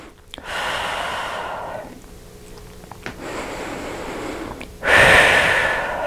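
Deep breaths taken during a yoga pose, long slow breaths in and out at close range, each lasting a second or two, with the last exhale the loudest.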